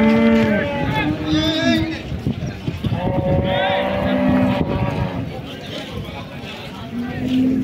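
Cows low at the Modnimb cattle market, with several drawn-out moos rising over a busy crowd and engine noise while people talk nearby.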